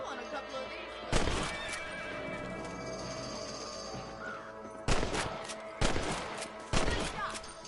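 Rifle shots at rabbits in Red Dead Redemption, four sharp, loud cracks spaced over several seconds, set against quiet outdoor farm ambience with a horse nearby and brief speech.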